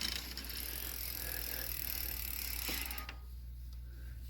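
Bicycle brake and cable being adjusted on a derailleur-equipped bike, giving a steady mechanical whir with faint ratcheting and rattling that drops away near the end, close up with no talk.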